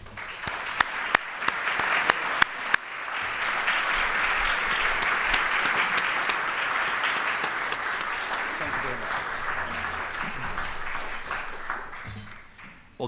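An audience at a Dallas policy event welcomes Ambassador John Bolton with applause: a few sharp early claps swell into steady, full clapping that lasts about ten seconds before fading out.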